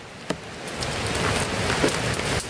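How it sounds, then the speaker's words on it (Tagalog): Heavy rain pours down steadily in a broad, continuous wash of noise, with a few sharper drops or knocks standing out, recorded nearby with no talking. "Lakas pa ng ulan."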